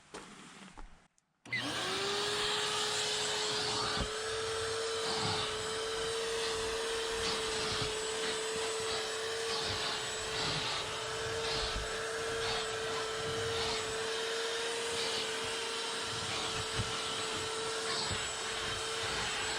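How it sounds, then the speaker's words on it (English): A vacuum cleaner switches on after a brief moment of quiet and whines steadily and loudly while cleaning the carpets inside a Ford Explorer, with bumps and shifts as the nozzle moves over them. "I just finished vacuuming everything."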